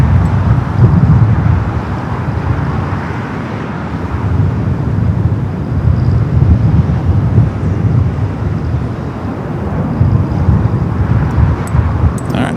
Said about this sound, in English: Virgin Flight 8 heading back to London Heathrow, rolling it down to 24 left there on the north side